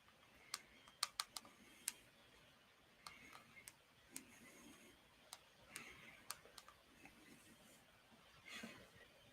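Someone is typing on a computer keyboard at a desk, with faint, close key clicks that come in quick bursts early on and then in scattered taps, all fairly quiet over soft room hiss.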